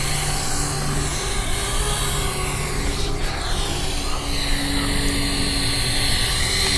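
A JXD 523 Tracker mini selfie drone in flight gives off a continuous, close, high-pitched whirring buzz, steady and loud throughout.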